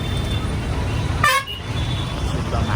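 Road traffic rumbles steadily with motor vehicle noise, and a short car horn toot sounds midway.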